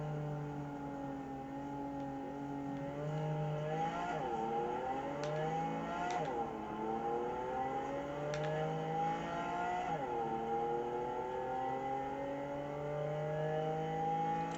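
A car drives in Cyberpunk 2077, its engine note climbing and dropping through repeated revs and gear shifts, loud and continuous with no talking.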